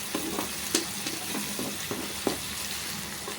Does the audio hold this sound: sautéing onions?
yes